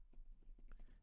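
Typing on a computer keyboard, a quick run of soft, close key clicks in an uneven rhythm, quiet and alone.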